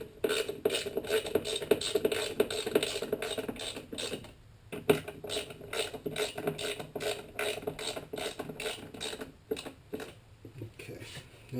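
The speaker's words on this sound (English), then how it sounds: "Screw the ends in just to hold it in place." Screws being driven into the ends of a piece during a teardrop trailer build, rapid ratcheting clicks of a driver in short repeated bursts, close and fairly loud, with a brief pause midway.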